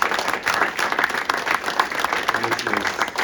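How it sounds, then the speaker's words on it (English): Audience applause for public health workers at a Wisconsin Public Health AmeriCorps announcement: steady, dense clapping that holds for several seconds at an even level, with some voices mixed in. "Give a round of applause to all our public health workers"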